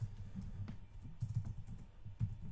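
Fast typing on a computer keyboard, a quiet string of close, soft key clicks in an uneven rhythm with brief pauses, and no talking.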